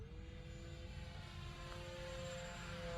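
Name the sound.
E-flite Turbo Timber RC plane motor at speed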